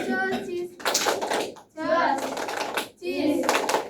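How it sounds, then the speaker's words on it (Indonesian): Classroom 'tepuk josis' clapping chant: a few rhythmic bursts of hand claps mixed with voices chanting together, close and fairly loud, alternating with a teacher's speech. "Tepuk josis untuk teman kita."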